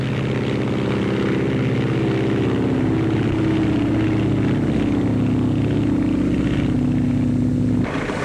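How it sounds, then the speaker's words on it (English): A Lockheed propeller plane in early record-flight days sends out a loud, steady engine drone with a throbbing propeller hum. It holds constantly throughout and cuts off abruptly at the end. "Captain Frank Hawks climbs aboard his Lockheed to set a new transcontinental mark."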